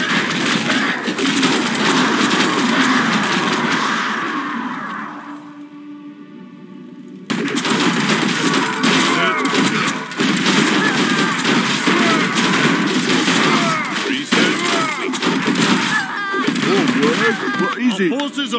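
Battle and combat sounds in a Warcraft game, a loud, dense clamor of clashing and impacts that drops briefly to a quieter lull, then resumes at full intensity for most of the clip.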